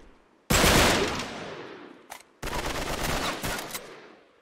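Uncharted 3 gunfire: a loud burst of automatic fire decaying into echoes, a brief pause and a single shot, then another long rattling burst close by.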